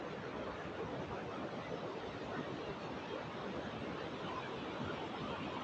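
A Scandinavian waterfall gives off a constant, dense rushing roar that stays even and unbroken throughout, with no talking.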